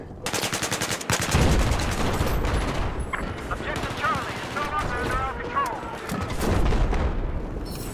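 Dense Battlefield 4 battle with a tank nearby: sustained loud gunfire bursts and heavy booms fill the whole stretch, with a player's voice shouting over the din.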